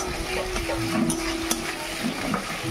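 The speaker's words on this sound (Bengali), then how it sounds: "এখানে সবজি ডাল করবো, তার জন্য আমি এখানে মশলাটা কষে নিচ্ছি।" A spice paste for vegetable dal fries in a pan, a continuous close sizzle with stirring scrapes and the odd light clink of utensil on metal.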